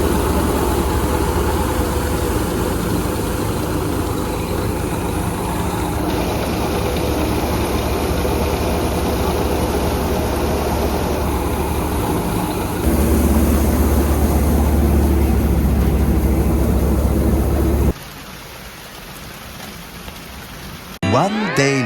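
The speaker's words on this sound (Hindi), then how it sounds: "धान मिसाई चल रहा है ट्रैक्टर से।" A tractor drives a paddy rice threshing operation in a Chhattisgarh village field in the evening, a loud continuous engine drone with a steady broadband roar that shifts in pitch and cuts down near the end.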